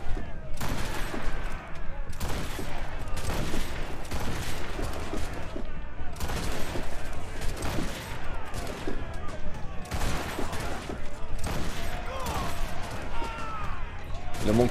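Ship cannons fire in naval combat in the video game Assassin's Creed Rogue, with dense, repeated booming volleys and crashes running throughout at steady loud levels, mixed with game effects.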